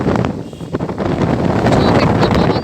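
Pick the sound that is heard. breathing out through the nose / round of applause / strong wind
strong wind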